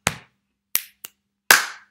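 Sharp hand claps in a primary music clapping game, four crisp isolated claps in an uneven rhythm, close and clear with silence between them and no voices.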